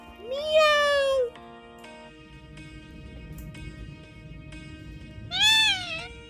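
A pet parrot imitates a cat's meow, with two rising-and-falling meow-like calls, one near the start and one near the end, over a soft steady background hum.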